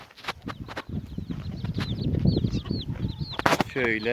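Broody hens and their chicks in a coop, with close clucking and repeated high chick peeps over rustling, a brief word spoken at the start.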